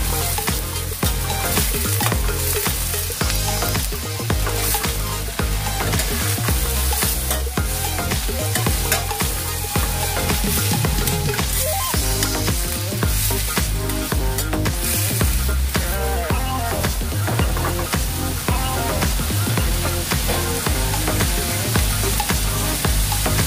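Baguio beans and carrots stir-fry in a pan, producing a loud, dense, continuous sizzle with repeated rhythmic scraping and tossing of the spatula, close up and without any talk.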